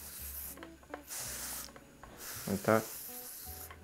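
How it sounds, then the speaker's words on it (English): A spray bottle mists reverse osmosis water onto sundew plants in several soft, airy hissing bursts spread across the clip, with a brief quiet voice in between. "I'll just spray them"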